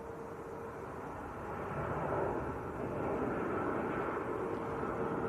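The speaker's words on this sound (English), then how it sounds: "This is Ryanair from Milan." A Ryanair airliner arriving from Milan at Manchester Airport, heard as a steady broad engine roar that swells slightly midway and holds, with no talk over it.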